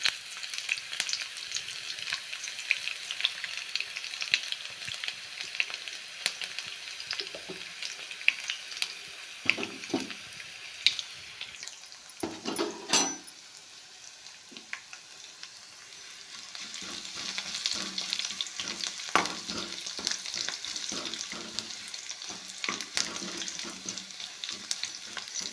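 Garlic and dried curry leaves fry in a pan with a steady, soft sizzle, broken now and then by stirring scrapes and a brief louder crackle, and nobody speaks.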